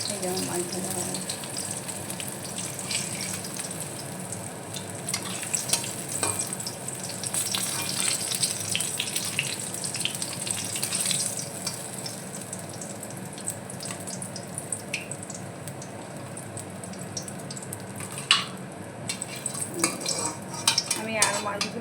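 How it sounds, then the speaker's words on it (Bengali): Koi fish frying in a pan of oil, a steady sizzle with occasional stirring, pan clatter and water sounds running throughout. "আমি সব মাছ এইভাবেই ভেজে নেব"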